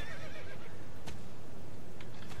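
A horse whinnies as it rears in the video game Star Stable, a shrill, wavering neigh over a steady game background, followed by a couple of sharp hoof or tack clicks.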